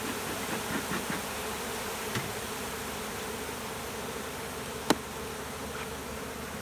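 Honeybees in an opened hive during a hive check drone in a steady, dense buzz that fills the whole stretch at close range, with a few faint knocks and one sharp click partway through.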